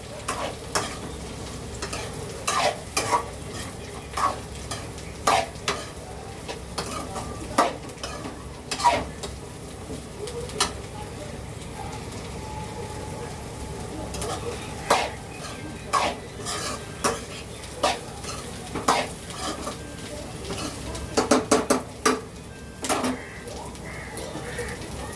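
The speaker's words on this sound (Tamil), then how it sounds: "இதெல்லாம் சேர்த்துக்கிட்டு லைட்டாக கொஞ்சோண்டு உப்பு மட்டும் போட்டுட்டு நல்லா கிளறி விட்டுருவேன்." Sautéed vegetables seasoned with a little rock salt are stirred in a pan, giving a steady sizzle broken by frequent scrapes and clinks of a utensil against the metal.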